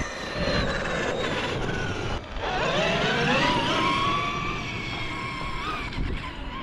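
Belt-drive RC truck running hard, a continuous loud whining motor with rising and falling pitch sweeps as it accelerates, steady throughout with a brief dip midway.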